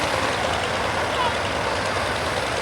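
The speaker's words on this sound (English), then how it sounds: "you can hear the engine spooling up" A vintage aircraft's piston engine spools up during a pre-flight run-up on the ground, a loud, steady broadband roar that fills the whole stretch without pause.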